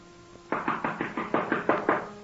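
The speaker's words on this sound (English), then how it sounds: "Answer your door, Ziegler" Eight steady knocks rap on a door in a quiet room, evenly spaced and fairly close, with no voices over them.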